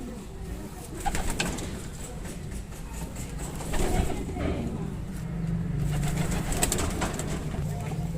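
Madrasi pigeons coo softly and repeatedly at close range, low murmuring calls with occasional wing flutters, over a steady background hum and a distant car.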